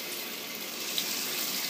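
Running shower water hisses steadily and evenly throughout, a constant close spray with no voices over it.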